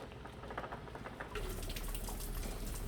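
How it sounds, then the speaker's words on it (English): Hot water poured from close by into a canning pot while homemade hot and spicy ketchup jars are processed, a steady splashing stream that grows louder and fuller partway through. "I'm going to go ahead and add some more hot water"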